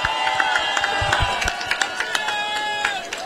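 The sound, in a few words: crowd applause and cheering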